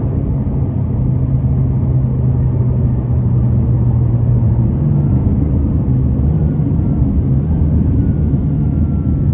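A tuned 664 hp McLaren 570S accelerates hard with a loud, steady engine roar and deep rumble heard from inside the car, continuous throughout with no speech.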